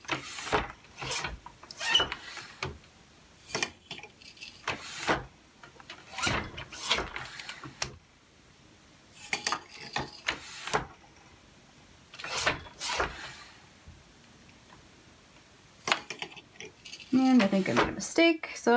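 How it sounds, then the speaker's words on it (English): A floor loom works while towels are woven, giving a series of wooden clacks and thumps from the treadles and beater at an irregular rhythm, close by, with someone talking between some of them. "I'm making the pattern by changing which treadle I'm pushing with my foot."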